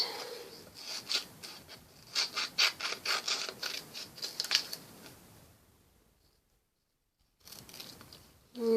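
Scissors cut around a piece of discarded trash material being turned into art, giving a run of quiet, rhythmic crunching snips, then a pause of near silence before a few more cuts.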